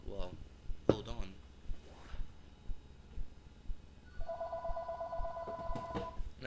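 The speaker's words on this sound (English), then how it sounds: "Please ignore the phone, or I can wait." A telephone rings indoors with repeated bursts of electronic ringing, clear and close, while someone talks over parts of it.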